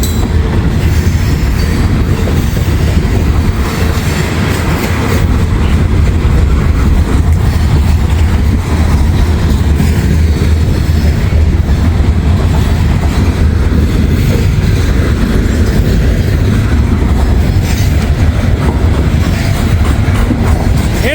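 A coal train rolls steadily past close by, its railcars producing continuous loud rumble and clickety-clack with occasional wheel squeal, all amid strong wind noise throughout.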